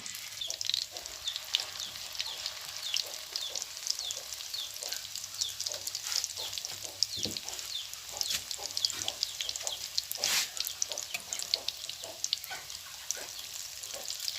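A special-recipe Thai-style omelette fries in oil in a pan, with continuous crackling and popping at moderate volume and small sharp spits scattered throughout.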